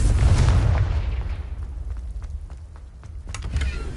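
A Confringo spell explosion in the Hogwarts Legacy video game booms loudly at the start and rumbles away into a fading tail, with a few faint crackles afterward.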